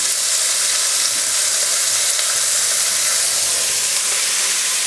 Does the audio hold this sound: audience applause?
no